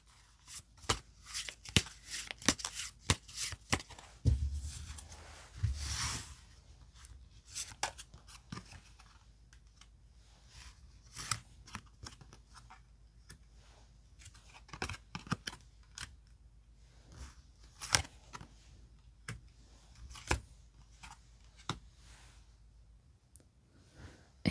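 Tarot cards being picked out and handled one at a time, soft sliding, shuffling and tapping clicks scattered irregularly throughout at close range, with no talking.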